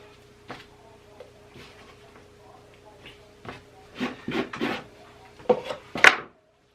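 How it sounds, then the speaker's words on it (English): Worn old beaver knife scraping a beaver pelt on a wooden stretching board: soft intermittent rasping strokes, a few stronger scrapes near the end, close and without talk over a faint steady hum. "This is just a wore-out beaver knife that I had, and I just use it for scraping."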